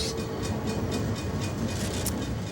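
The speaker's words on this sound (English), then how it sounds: "The only passing trains today will be freight trains" A freight train rolls past at close range in Fostoria, Ohio, with a loud, steady rumble and rhythmic wheel clatter across the rails throughout.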